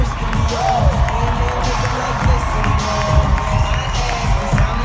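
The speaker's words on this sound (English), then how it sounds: "Come on, keep on clapping." Large homecoming event crowd cheering and clapping in a big hall, a loud continuous roar with whoops and shouts rising and falling.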